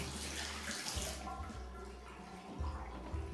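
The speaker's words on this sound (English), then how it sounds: "make sure your drain is working properly" Water running and gurgling down an apartment sink drain, a steady close splashing flow with low bubbling surges, without talk.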